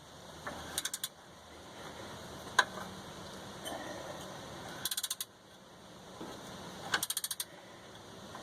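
An 18mm wrench and vice grips work a bolt loose on a car's control arm: quiet, close ratcheting clicks in short bursts with a few sharp metallic ticks between them.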